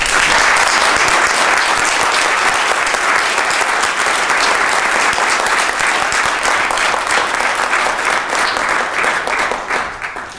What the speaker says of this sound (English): Can I request you to welcome Hazel with a loud applause